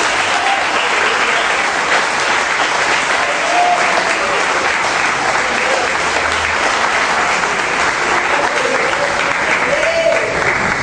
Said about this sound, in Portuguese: E nós, aplauda o Senhor.